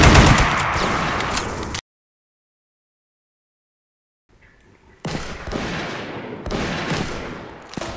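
A Golden Deagle pistol fires in Totally Accurate Gun Simulator. Loud, rapid shots come in a dense burst, then there is a stretch of silence, and then more sharp volleys follow.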